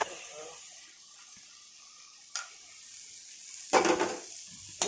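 Helencha stalks go into a pan of hot oil seasoned with a little turmeric. A faint, low sizzle runs throughout, broken by two brief louder crackling bursts as the stalks are added and stirred.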